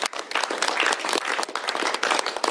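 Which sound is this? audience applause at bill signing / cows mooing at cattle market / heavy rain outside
audience applause at bill signing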